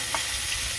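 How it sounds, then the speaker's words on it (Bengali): Stinging catfish cook in a pan, giving a short burst of close sizzling and frying with a brief stir, and no talking. "এখন রান্না করুম শিং মাছ"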